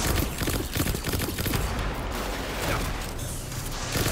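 Destiny 2 gunfire rattles out in rapid, loud bursts of overlapping shots, a dense fusillade running continuously through a boss fight.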